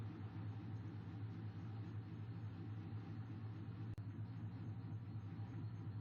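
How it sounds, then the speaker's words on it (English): A low, steady engine rumble like a train, continuous and fairly distant throughout, with a single brief click partway through and no talking. "the sound of an engine?"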